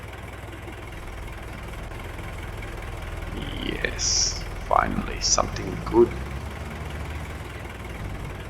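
A tractor engine idles in Farming Simulator 22 as a steady low rumble running throughout, with someone talking over it.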